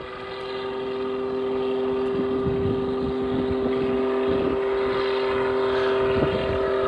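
An aerobatic aircraft at the Duxford airshow holds a steady engine drone with a strong constant tone as it pulls to a high angle of attack and tries to hover, sustained and fairly loud at a distance.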